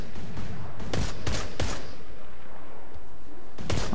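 Sniper rifle shots in Destiny 2, during the Warmind DLC mission, several sharp cracks in quick succession, then a pause before one more shot, loud and close.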